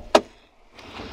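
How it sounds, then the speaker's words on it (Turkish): The door of a 2023 Iveco Daily van opens with a single sharp click, followed by a soft sliding rustle. "Melikcan, şu kapıyı açsana."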